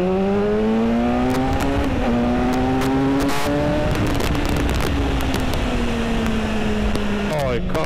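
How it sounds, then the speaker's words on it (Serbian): A motorcycle engine revs loudly up close, its pitch climbing and sliding back down in repeated surges over a continuous roar. "Oj, kako ide motor!"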